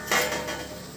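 A single clink of a utensil against a pan as wheat flour is roasted with onion and badi, followed by a soft scraping stir, close and brief.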